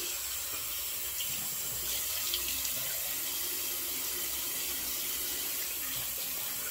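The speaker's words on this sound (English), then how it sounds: "and we'll give it a quick rinse." Water runs from a tap into a sink to rinse a shavette razor, a steady close splashing rush that continues without a break.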